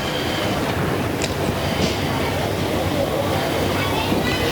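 Diesel pulling truck at an NTPA Grand National truck and tractor pull, a steady loud engine roar throughout with no breaks, crowd and track noise blended in.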